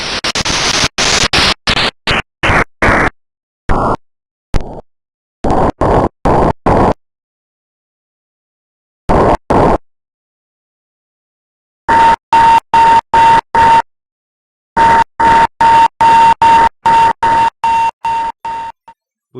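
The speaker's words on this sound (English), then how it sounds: "we have zeroed in on a CW transmission from a ship in the Pacific" CW Morse code from a ship in the Pacific, received on the HF band, comes through as loud, sharp on-off keyed tones in bursts of dots and dashes separated by silent gaps.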